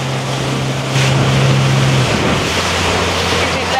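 Motorboat speeding across Lake Garda, a steady engine drone with wind buffeting and water rushing against the hull, loud and close throughout.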